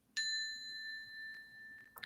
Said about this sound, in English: do we want to ring the little bell?